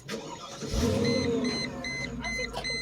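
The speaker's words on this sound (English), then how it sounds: "Alright, so if I start the engine" A 2001 Mercedes SL500 engine cranks and catches, then settles into a steady idle. Close by, a few faint electronic chimes sound over the running engine.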